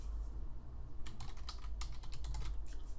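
Quick typing on a computer keyboard, a close run of light key clicks in uneven bursts over a steady low background hum.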